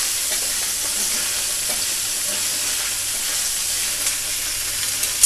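Cumin seeds and minced mutton keema are mixed in a hot pan for mutton kofta balls. A loud, continuous sizzle and hiss runs throughout, with stirring scrapes and a sharper knock at the very end.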